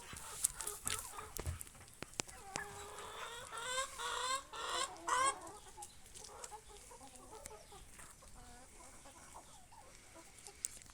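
Young turkeys, bourbon crossed with common birds, and other poultry in a farmyard give scattered chirps and clucking calls, with a few louder bursts of calling early on before settling to quieter, intermittent peeps.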